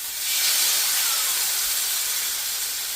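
A loud, steady sizzling hiss of chicken searing in a hot pan fills the moment with no one talking.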